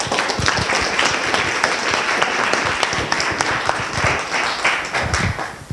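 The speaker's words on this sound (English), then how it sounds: "Please give him a big applause." An audience gives sustained applause for a speaker at a talk, steady overlapping clapping with individual sharp claps standing out throughout.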